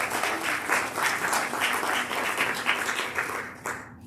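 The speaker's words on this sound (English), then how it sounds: "Let's just give an applause because they make it happen." A congregation applauds at a Sunday service, honoring service associates with dense, steady clapping that swells in waves and tapers off near the end.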